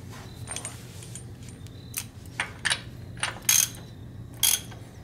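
A ratchet tightens a nut on a Chevrolet C1500 truck's suspension during a spring and control arm install, a series of short metallic clicking bursts in quick, uneven strokes, close and without talk.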